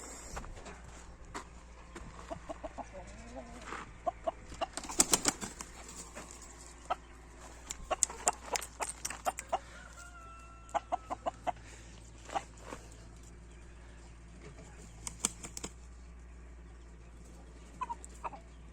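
An Indian game rooster clucks and calls in short bursts outdoors, with scattered sharp sounds and a steady low background hum.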